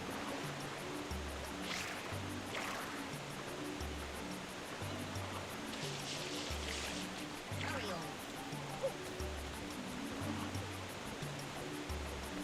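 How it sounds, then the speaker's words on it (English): Rushing waterfall and flowing water in the Super Mario Sunshine video game, a steady broadband wash running continuously under looping game music. "And now that the waterfall is back to normal, I can resume business."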